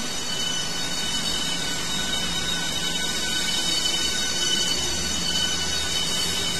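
A train departing from Ebbsfleet toward St Pancras in Train Simulator, a steady loud rolling rumble with hissing and a faint wheel squeal, continuous throughout and without talk.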